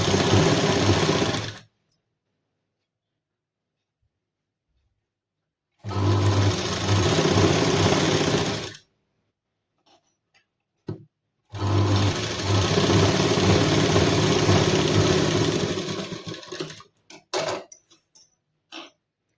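A sewing machine stitches a tucked blouse in two loud, steady runs of about three and six seconds, close by, separated by silence and followed by a few faint handling clicks.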